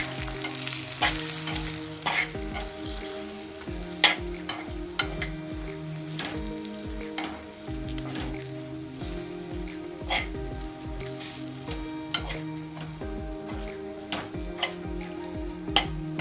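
Chili pachadi with jaggery and salt cooks in a pan, a steady close sizzle with repeated scraping stir strokes and occasional clinks. Faint tonal music runs underneath, and no one speaks.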